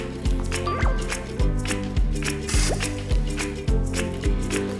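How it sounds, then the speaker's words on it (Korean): Several sharp, zippy rips of clear adhesive tape being pulled and pressed on to fix a funnel to a tube, close by, repeating over a steady musical backing. "깔때기가 빠지지 않게 투명 테이프로 붙여줄게요."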